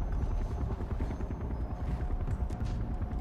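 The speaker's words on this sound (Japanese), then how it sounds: "ヘリの音するけど。" Helicopter in the video game Far Cry 4, a loud continuous rhythmic rotor chop throbbing steadily throughout, heard alone without speech.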